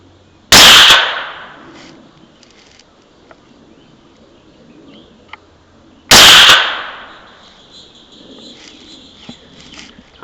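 Two loud rifle shots several seconds apart, fired at a hand-warmer target outdoors on a range with a rifle fitted with a Goyojo GRL335 thermal sight. Each crack is sharp and close, with a long fading echo and faint background sounds between them.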